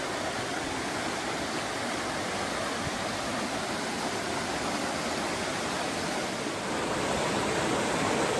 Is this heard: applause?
no